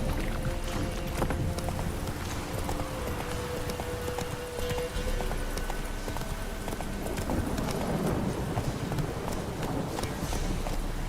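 Roach, a horse in the video game The Witcher III, gallops with steady, continuous clip-clop hoofbeats close up over a low rumble of background ambience, without pause.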